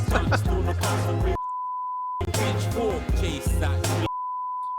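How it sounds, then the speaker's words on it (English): A steady censor beep from the video game Not For Broadcast sounds twice, each a flat tone of under a second, cutting in between bursts of loud game audio with voices and music. "Which he just gets beeped when he does it."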